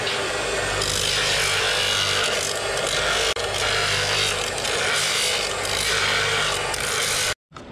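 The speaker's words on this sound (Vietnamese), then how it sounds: "Rồi bây giờ mài." Power tool grinding the freshly cut plastic lid of a homemade external aquarium filter, a loud continuous abrasive whine and rasp close up, briefly dipping once before cutting off abruptly at the end.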